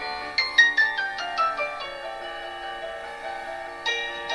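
Playback from a YouTube video through the built-in speaker of an ASUS MeMO Pad FHD 10 tablet: a bright, tonal melody with a quick run of plucked, chime-like notes, then sustained tones and a final note, clear and fairly loud for a small speaker.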